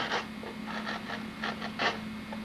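Hand gouge paring wood while building a violin: a series of short scraping cuts in an uneven rhythm, close and fairly quiet, with a steady low hum underneath.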